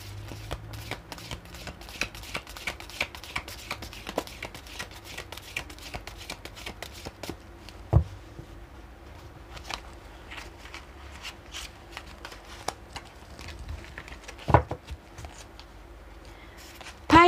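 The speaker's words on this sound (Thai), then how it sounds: "อาจารย์ขออนุญาตสับไพ่เพื่อเปิดดวงให้กับชาว ราศีธนูค่ะ" Tarot cards being shuffled by hand for a fortune reading, a steady run of quick papery riffles and flicks lasting the whole stretch, close and moderately loud, with a few sharper taps and no talk.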